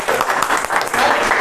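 Schoolchildren clap together during a Republic Day celebration in India, brisk dense clapping at close range with a few voices mixed in.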